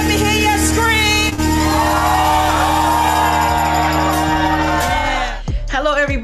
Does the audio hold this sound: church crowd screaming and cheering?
yes